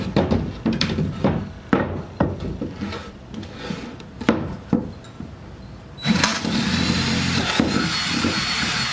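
Power drill boring a small bolt hole through a teardrop trailer floor, with several sharp knocks and bursts followed by a steady loud whirring grind, close up.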